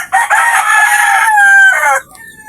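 A rooster crows loudly and close by among a flock of chickens being bred, one long harmonic cock-a-doodle-doo lasting about two seconds before it trails off.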